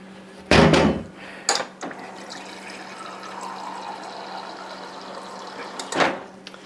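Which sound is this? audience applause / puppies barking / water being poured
water being poured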